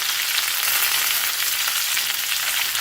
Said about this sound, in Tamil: எல்லாம் ஒன்றா சேர்ந்து வதங்கி வரட்டும்